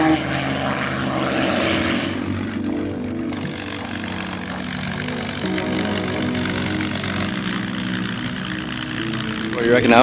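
A P-40 warbird's propeller engine runs steadily at an airshow, its loud, continuous drone carrying under background voices and crowd noise for the whole stretch.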